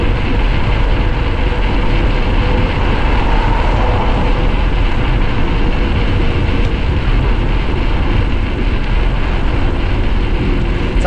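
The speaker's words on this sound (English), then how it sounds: "Sorry about the wind." Steady, loud roaring wind buffeting the microphone while coasting downhill on a mountain bike at Sesqui-Centennial State Park, a dense unbroken rush with no breaks and no voices.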